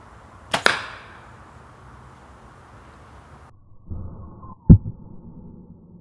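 Two sharp impacts of an arrow fitted with a .357 Magnum bow-mag exploding arrowhead striking a target block, a few seconds apart, each a hard thud with a brief ringing decay, otherwise quiet.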